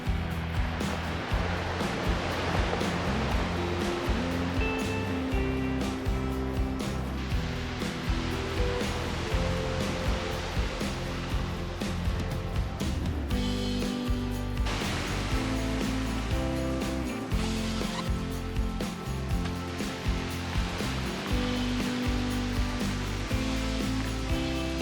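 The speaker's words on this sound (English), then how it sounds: "Now, the waves are quite strong" Strong sea waves crash and churn on a cold, windy seashore, a loud continuous roar of surf filling the whole stretch with no pauses.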